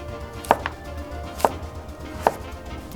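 A kitchen knife chops cabbage and carrot on a cutting board in three distinct, well-spaced thuds, close and crisp over a quiet background with no talking.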